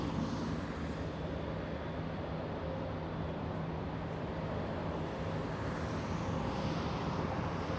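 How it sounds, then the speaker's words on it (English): Philippine Airlines airliner lining up on runway 24 left at Los Angeles International Airport, a steady, distant jet engine rumble holding evenly throughout with faint background hum. "we're gonna go to Philippine Airlines now, lining up on a 24 left"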